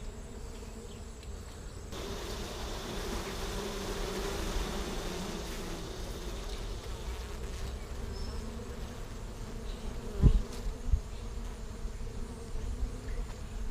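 Honeybees buzzing over a frame of freshly drawn comb in a hive, a steady low droning hum, fairly quiet and continuous, with a brief handling bump partway through.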